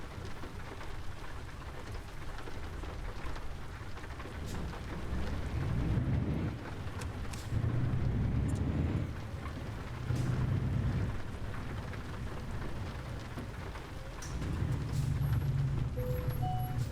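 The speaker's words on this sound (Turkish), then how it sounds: "Dur camı bir kapatalım da içerisi yağmur dolmasın." Steady heavy rain pours in a rainy scene of the Euro Truck Simulator 2 truck-driving game near the port of Athens, Greece, with low rolling thunder swelling and fading several times beneath the downpour.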